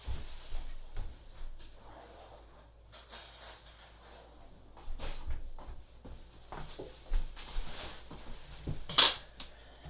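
A metal knife clinks against dishes and a hard surface in a kitchen while someone prepares to decorate cookies, producing a few faint, close taps and scrapes amid quiet room noise.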